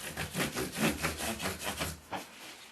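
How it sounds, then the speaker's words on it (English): Micro mesh pads rub quickly over corroded metal parts of a left-handed Fender Jazz Bass during restoration, giving a steady run of close, rhythmic scrubbing strokes that ease off near the end. "Now we're just zipping through all the different levels of micro mesh here."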